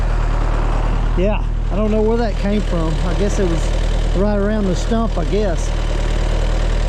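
A stump grinder engine idles at a steady, loud, low rumble throughout while someone talks over it.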